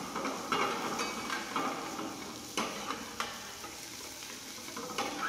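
A spoon stirs cream sauce in a pan for Chicken Madagascar, scraping and clinking against the pan a few times over a soft, constant sizzle; quiet and close, with no talking.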